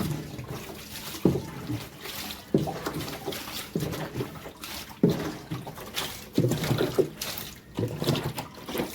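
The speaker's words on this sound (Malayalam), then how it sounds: "നമ്മൾ വെള്ളം കോരി കളയാണ്." Water is scooped and bailed out of a fish tank during cleaning, repeated splashy pours and sloshes in an uneven rhythm, close by, with no talking.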